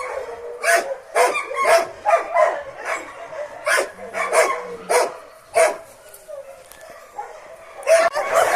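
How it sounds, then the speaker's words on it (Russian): West Siberian Laika dogs bark in a rapid, irregular volley of loud, sharp yaps close by, with short gaps and a few higher yips between the barks. "Здесь такой сразу ор поднялся. Лай."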